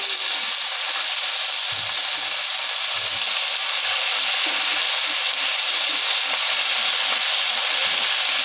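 Leafy greens frying in a pan give off a loud, steady hiss, with soft low thumps and bumps scattered through it and no talking.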